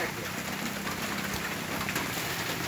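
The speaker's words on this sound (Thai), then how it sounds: "ฝนมาอีกแล้วพี่น้องเอ้ย" Steady rain falls outdoors during a Thai fish grilling session, a dense continuous patter that stays even and fairly loud throughout, with faint talk beneath it.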